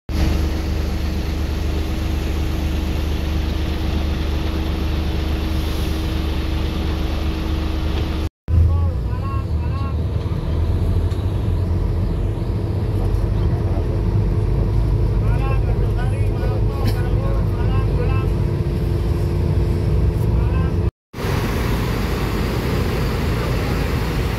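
Steady engine drone inside an Akas Green RK8 coach bus as it accelerates, a loud continuous rumble heard from within the cabin with road noise throughout.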